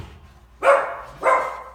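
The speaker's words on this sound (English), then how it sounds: "Sorry about the dogs." Dogs bark twice in a home, two loud close woofs about half a second apart with quiet room noise between them.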